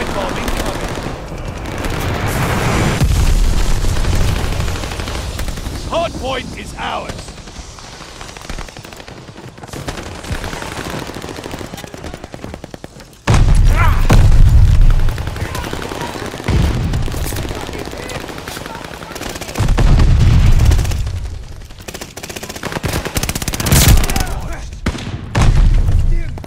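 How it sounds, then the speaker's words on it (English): In the Call of Duty: Vanguard Hardpoint match on USS Texas 1945, an enemy glide bomb drops and explodes. Loud, dense gunfire and heavy booms come in waves, with sudden deep blasts standing out and voices occasionally cutting through. "Enemy glide bomb incoming!"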